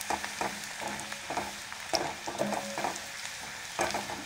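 Onion being sautéed in a pan for a Maharashtrian ambadi leaf dish. A steady close sizzle sounds throughout, with frequent clinks and scrapes from a stirring spoon and no voices.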